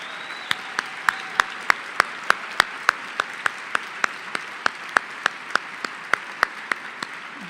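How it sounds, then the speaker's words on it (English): Clapping at an anniversary luncheon honoring a leader's 25 years, with sparse, evenly spaced sharp claps standing out over a soft room-tone background, a fairly small and close-sounding response. "Jerry Adelman is celebrating his 25th anniversary leading this organization, and I think he deserves a round of applause"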